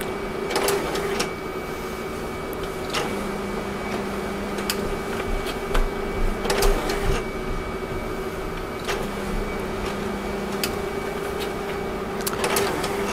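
An HP M806DN laser printer runs with a steady mechanical hum, punctuated by repeated sharp clicks and thumps as it pulls pages through, moderately loud and close.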